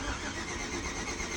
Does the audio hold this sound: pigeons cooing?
no